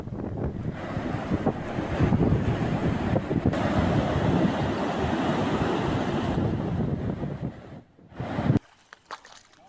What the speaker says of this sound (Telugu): చిన్న దోర్నాల వద్ద వాగులు ఉధృతంగా ప్రవహిస్తున్నాయి